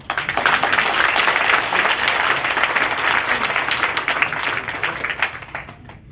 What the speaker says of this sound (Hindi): एक बार अपने लिए जोर से ताली बजा।